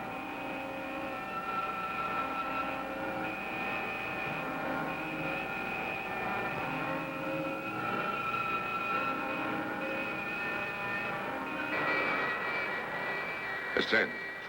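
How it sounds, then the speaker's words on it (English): Spacecraft engine thrust from a science-fiction film, a steady, loud roaring drone with sustained tonal whine, building slightly near the end with a couple of sharp bursts. "More thrust. I'll increase the thrust to Mach 80."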